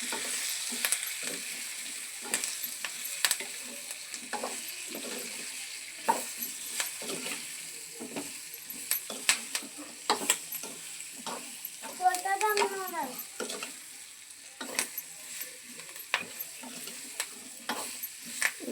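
Mango pickle mixed with salt, turmeric and chili powder is stirred close by, with a utensil scraping and clinking in irregular bursts. Occasional faint voices come through in the background.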